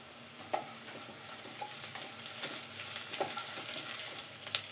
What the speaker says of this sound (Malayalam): ഒന്ന് കളർ മാറി വരുന്നവരെ ഒന്ന് വഴറ്റി കൊടുക്കാം.